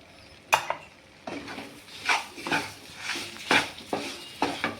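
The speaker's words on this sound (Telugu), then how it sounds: "మంచిగా మిక్స్ చేసుకుందాం." Sugar stirred into rawa sheera in a pan, a spoon scraping and knocking against the metal in repeated strokes roughly every half second, close, with a soft sizzle underneath.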